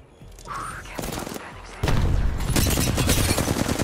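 Apex Legends gunfire from two enemy teams during a ranked match, rapid automatic bursts building into a loud, dense fusillade that crowds the second half, with a voice speaking briefly underneath.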